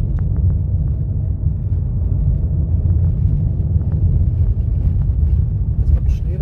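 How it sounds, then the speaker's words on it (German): Car tyres roll over bare ice on Norway's E6 near Honningsvåg and Hammerfest, a loud steady low rumble from inside the vehicle with continuous road drone and no breaks. "So, das ist hier blankes Eis, wo ich drauf fahre."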